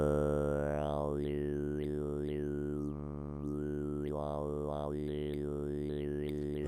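A Pink Trombone vocal synthesizer patched in VCV Rack holds a steady buzzing drone while its throat shape shifts, making sweeping, wah-like vowel changes with a brief dip partway through.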